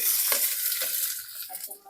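Loud hissing sizzle of ginger and garlic frying in a pan, close and continuous, with a few brief stirring scrapes.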